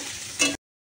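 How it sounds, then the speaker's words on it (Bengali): Chopped chillies fry lightly in a pan with a steady sizzle that swells briefly before cutting off abruptly. "এবার এটাকে আমি হালকা ভাজা ভাজা করে নেব।"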